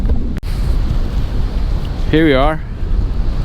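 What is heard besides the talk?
wind noise hitting the microphone outdoors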